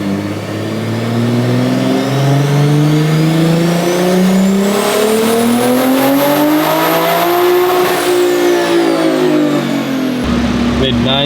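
A Toyota MK5 Supra tuned to roughly 970 wheel horsepower screams through a full dyno pull, engine pitch climbing steadily, peaking, then dropping away as it lets off, loud and close throughout.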